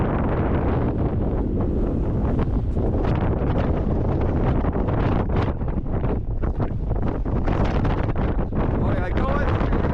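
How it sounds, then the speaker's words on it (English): Strong wind high up on a New Zealand road buffets the microphone with a loud, constant roaring rumble that pulses in gusts, and a voice can be heard faintly beneath it. "It's so windy up here."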